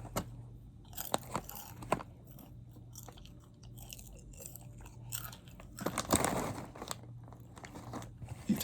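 Someone chews a crunchy snack that tastes like cinnamon cereal, close and intermittent crunching and biting with soft crinkles and a louder burst of crunches toward the end, no talk.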